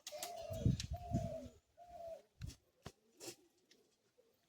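Several soft, low coos from Madrasi high-flying pigeons repeat close by in a slow rhythm, separated by short pauses and faint rustling.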